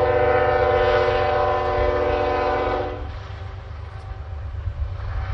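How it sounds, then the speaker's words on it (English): A distant train rumbles by beyond a cornfield with a low, steady drone and faint horn-like tones that fade partway through. "You can hear in the distance a train is going by"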